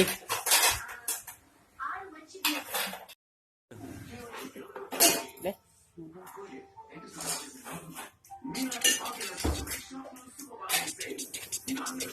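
A spoon clinks against a metal vessel while holy water is served, giving light, repeated tinkles and clatters nearby, mixed in with people talking.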